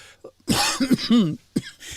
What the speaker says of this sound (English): It's not the coughing that carries you off.